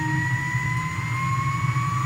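Jet engine of a Morane-Saulnier MS760 Paris Marboré II in a flight simulator, a steady loud turbine roar with a low rumble and two rising whine tones as the engine spools up, constant throughout with no talk.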